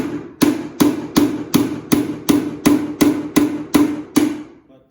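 A hammer drives a U-shaped fencing nail into a wooden marten trap box: ten evenly spaced, sharp, loud blows land in a steady rhythm and stop abruptly, with no talk.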